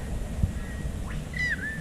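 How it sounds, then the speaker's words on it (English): A single bird's chirping call sounds over flat creek water on an overcast day, brief and fairly clear above a steady low outdoor rumble. "birds are chirping"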